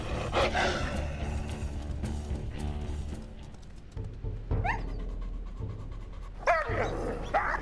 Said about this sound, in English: Requiem and Skunk howled in defiance as their enemy pack limped back to their own territory to lick their wounds